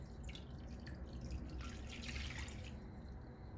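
Water running steadily over a pork chop brine of sugar and salt, a faint continuous trickle and splash with light dripping, close and alone throughout.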